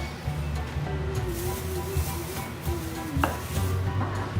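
A knife chops the ends off small zucchini on a board in a home kitchen, with a few soft cutting taps under a steady low hum of room noise.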